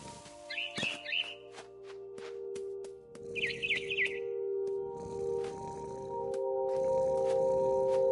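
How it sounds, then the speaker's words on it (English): A barn swallow returning to its nest gives two short bursts of chirping, separated by a pause, over a steady low hum. "It was a barn swallow going back to her nest."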